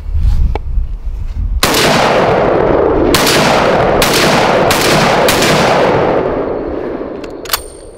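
Mossberg 930 semi-automatic shotgun fired at a shooting range: five loud, sharp blasts spaced about a second apart, each with a long booming echo, then a fainter sixth shot near the end.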